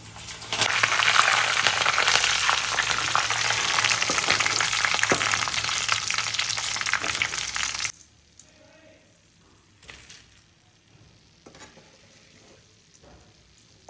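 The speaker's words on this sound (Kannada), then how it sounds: "ಕರಿಬೇವನ್ನ ಹಾಕ್ಕೊಳ್ತಾ ಇದ್ದೀನಿ ಇದಕ್ಕೆ ಲಾಸ್ಟಿಗೆ. ಸ್ವಲ್ಪ ಪಟ ಸಿಡಿಯುತ್ತೆ" Curry leaves drop into hot deep-frying oil for an avarekalu mixture, setting off a loud, dense spluttering crackle for about eight seconds. It then cuts to quiet, with a couple of faint clinks.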